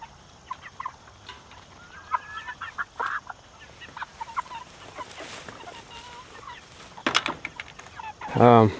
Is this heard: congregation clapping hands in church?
no